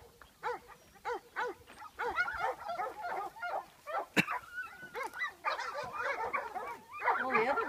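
Dogs barking at a duck-dog training session, with repeated excited barks in quick bursts from several dogs, moderately near, building into overlapping yaps toward the end.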